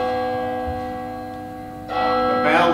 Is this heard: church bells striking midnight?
yes